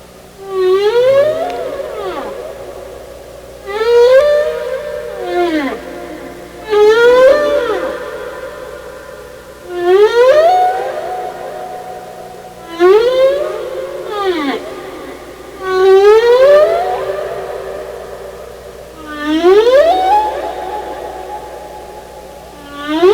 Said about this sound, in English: Humpbacks are kind of interesting whales. They have a song that they sing every year, and they change parts of it in following years.